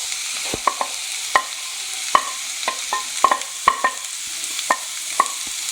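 Onion with ginger, garlic and green chilli sautéing in oil in a pan: a constant close sizzle punctuated by a dozen or so crisp, irregular clicks of a spatula against the pan.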